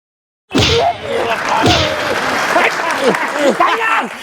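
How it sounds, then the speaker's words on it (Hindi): Sudden, loud applause bursts in abruptly, mixed with excited voices calling out over the clapping throughout. "तालियां"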